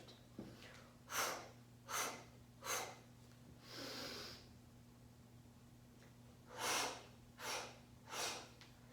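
Forceful exhales from a BASI Pilates mat exercise: three sharp breaths in quick succession, a softer drawn-out breath, then three more quick exhales, close and fairly loud over a faint steady hum.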